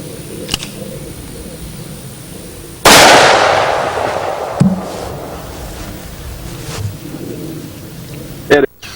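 A single heavy .41 Magnum shot booms out at a shooting range, loud with a long rolling decay, followed by a few fainter thumps and clicks.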